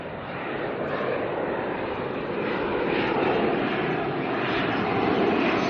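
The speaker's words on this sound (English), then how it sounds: "ATR here is coming in from New Plymouth" ATR turboprop airliner arriving from New Plymouth at Auckland Airport, a steady broadband engine roar that holds loud and even throughout, swelling slightly toward the end with no talk over it.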